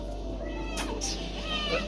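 A domestic cat meows a few times in short, rising cries over a steady low hum, with a person's voice nearby.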